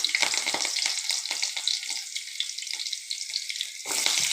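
Green chilies sizzle loudly in hot oil in a frying pan, a bright crackling hiss with spattering pops, brief stirring scrapes near the start, then a fresh burst of sizzle at the end.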